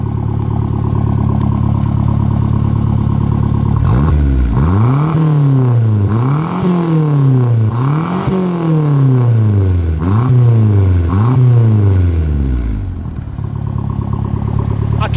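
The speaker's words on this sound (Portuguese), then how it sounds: "Aragão, você pode dar uma aceleradinha lá" Chevrolet Vectra engine with a full 3-inch exhaust, idling and then blipped through about five quick rev climbs and drops in a row before settling back to idle, loud and close.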